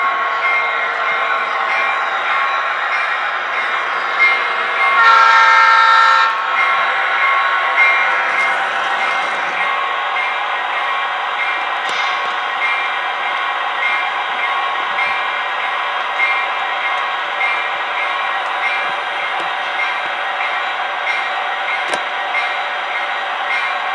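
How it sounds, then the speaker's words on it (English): Lionel American Flyer model train, a Southern Pacific U33 locomotive pulling two-bay hoppers, runs with a steady, close electric hum and rolling clatter, with a brief louder swell early on and no talk. "Here we have our two new hoppers being pulled by a Southern Pacific U-33"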